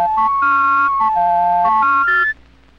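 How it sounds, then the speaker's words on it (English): A Mauch Stereotoner reading aid renders a small letter W as two quick descending-then-rising runs of pure electronic tones in succession, ending abruptly with a higher note. "A small letter W sounds like 2 Vs in rapid succession."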